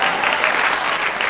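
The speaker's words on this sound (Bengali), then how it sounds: "প্লিজ একটা রেনুর জন্য জোরে হাততালি হয়ে যাক।" Steady, dense applause from an audience at a neighbourhood fashion show for a model's ramp walk, continuous clapping close and loud throughout.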